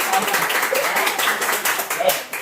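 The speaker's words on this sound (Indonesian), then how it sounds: "Tepuk tangan dulu untuk kelompok" A short burst of applause in a classroom for a student group's presentation, many hands clapping together in a dense, lively patter.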